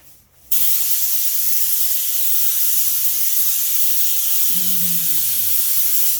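A paint sprayer blasts primer onto walls in an empty room, a loud, continuous hiss that starts abruptly after a short quiet moment and runs without a break.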